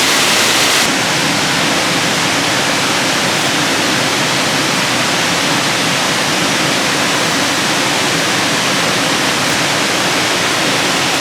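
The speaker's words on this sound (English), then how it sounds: "Huge, huge waterfall." A huge waterfall at Agate Falls or Bond Falls in Michigan roars steadily and loudly as one broad, unbroken rush of water, with no voices over it.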